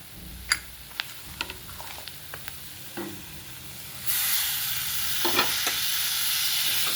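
Chopped tomato is sautéed with spices for an aloo matar bhaji, starting with sparse spoon taps and scrapes on a pan before a loud, steady sizzle erupts and continues with occasional stirring clicks.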